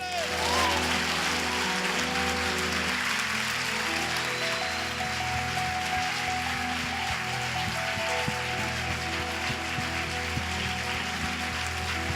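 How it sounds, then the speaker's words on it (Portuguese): A church congregation claps in a dense, continuous wash of applause over sustained music, steady and loud throughout, with a voice speaking over it. "E dê um forte aplauso a Ele."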